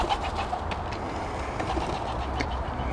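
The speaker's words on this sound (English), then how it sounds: "Mr. Pigeon." A pigeon coos softly on an allotment, its low calls blending into a dense, steady outdoor background with no voices.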